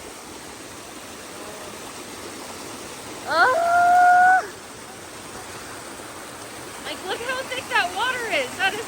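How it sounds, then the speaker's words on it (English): Steady broadband rush of water pouring down a steep section of the Appalachian Trail like a waterfall fills the whole stretch, with a person's brief exclamation partway through and other voices chattering near the end. "like literally a waterfall"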